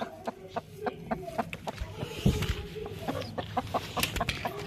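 Several hens cluck in short repeated bursts close by in a farmyard coop just after an egg is laid, their calls steady and loud throughout.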